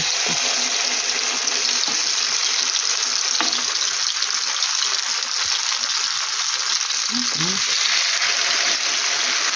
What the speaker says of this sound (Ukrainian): І знову буду смажити.